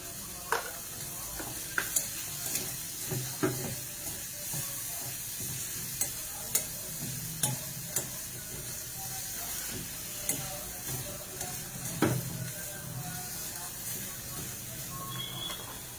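Paneer pieces fry in butter in a steel pan, giving a steady low sizzle broken by repeated scraping and clinking strokes of a spoon as it is stirred, close by and continuous with no talking.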